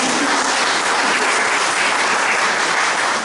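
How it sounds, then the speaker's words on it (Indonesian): A church congregation at a Sunday service at Safari Park Baptist Fellowship breaks into loud, dense applause that holds steady for a few seconds with no talking over it. "Tepuk tangan dong buat Pak Tony"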